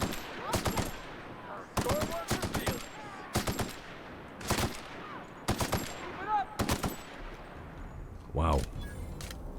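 Gunfire while shooting an enemy in The Outer Worlds comes as repeated loud, close bursts of automatic shots at roughly one-second intervals, with a deeper thump near the end and a voice briefly exclaiming.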